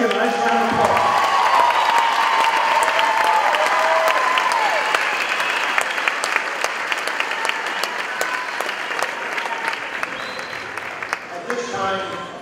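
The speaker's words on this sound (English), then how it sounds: "Let's give a nice round of applause." Audience applause at a 2017 Landis Intermediate School 8th grade recognition ceremony, a sustained, dense wash of clapping that fills the hall, loud at first and gradually thinning toward the end.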